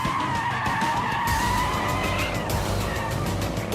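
A PP Performance Mercedes CLS 63 AMG warms up its tyres on a test track, its engine droning loudly and continuously with a squealing, skidding tyre tone layered over it, close by and without talk.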